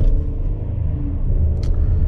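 Cabin view of a 2023 Hyundai Palisade XRT on the move: a steady low road and engine rumble fills the space, with a brief faint click near the end.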